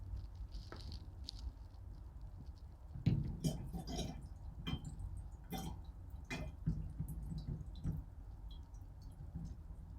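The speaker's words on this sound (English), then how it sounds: "I'm just going to keep adding water until looks like there is nothing left to crash out" Distilled water is poured into piperine extract in a home shed setup, giving soft irregular patter and dripping with small splashy squishes, close and fairly quiet, with a louder burst of pouring partway through and no talking.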